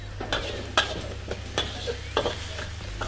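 A Thai basil stir fry cooking in a pan gives a low sizzle under repeated clinks and scrapes as the food is tossed and stirred, roughly every half second to second.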